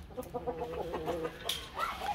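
Loose Brahma chickens clucking as they roam near a coop, a steady run of short, close clucks with a few louder calls rising toward the end.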